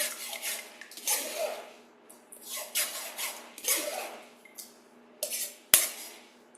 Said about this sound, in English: So we're gonna stir that.